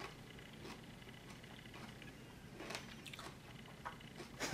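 Close, quiet crunching as someone bites and chews crisp kimchi, with a few sharper crunches toward the end and no talking.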